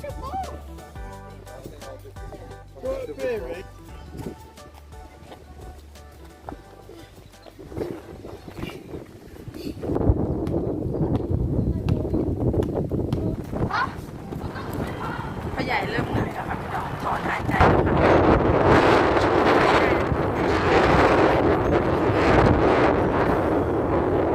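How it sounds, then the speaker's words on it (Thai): Strong wind buffets the microphone outdoors in cold, clear weather, a roaring rush that builds and grows louder in the second half, with a voice talking under it early on. "ลมแรงมากแต่ว่าอากาศดีค่ะ"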